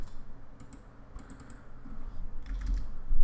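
Soft keystrokes tap on a computer keyboard as a value is typed in, a quick scattered series of light clicks close by over a faint room hum.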